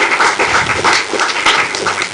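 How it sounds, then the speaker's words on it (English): A symposium audience on social entrepreneurship claps in a steady, dense round of applause, loud and close, with no pause for the whole stretch. "let's give her another round of applause"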